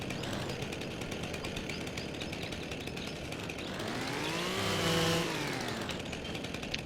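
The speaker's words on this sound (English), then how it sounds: "simply grab one of your chainsaws, and then run over to like these stumps and just cut it off at the bottom." Chainsaw cutting through tree stumps in Farming Simulator 25, a steady loud buzzing engine drone that rises into a revving pitch sweep as the blade bites, then settles back, heard alone.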